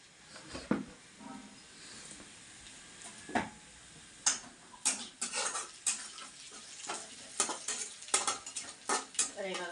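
Onion frying in ghee for chivda, a low sizzle under frequent sharp clinks and scrapes of a spatula against the pan, close by and without speech.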